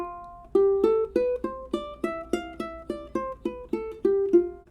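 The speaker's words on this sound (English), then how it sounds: "Now we're going to be doing the F Lydian mode, and that's going to sound like this." A ukulele plays an F Lydian mode scale, about a dozen evenly spaced plucked notes, each ringing briefly before the next, close and clear with no voices.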